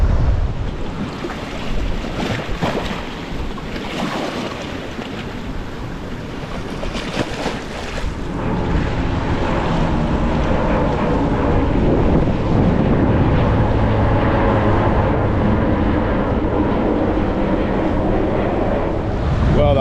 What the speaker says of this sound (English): That wind has done exactly what it said it was going to do.